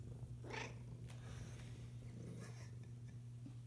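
A cat purrs softly and steadily up close, a continuous low rumbling hum with a few faint rustles over it.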